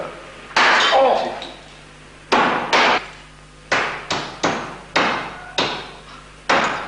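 Rubber frozen in liquid gas is struck by a hammer about nine times, each blow a loud, sharp, brittle crack with a ringing decay, close by, in a 1960s industrial setting at Arzew.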